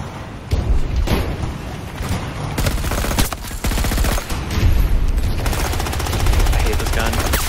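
Rapid automatic gunfire from a weapon in the shooter game Battlefield 2042, loud and sustained in dense bursts with heavy booming impacts throughout.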